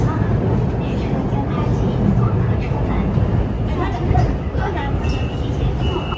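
A subway train rumbles steadily along the track, a loud continuous roar with rattling and whine inside the carriage, with chatter from passengers and an onboard announcement mixed in.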